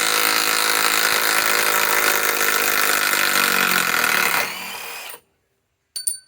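A Milwaukee M12 Fuel 3/8 stubby impact wrench runs loud and steady for several seconds, then winds down and stops, followed by a few brief clicks and knocks.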